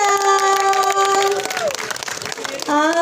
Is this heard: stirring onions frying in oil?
no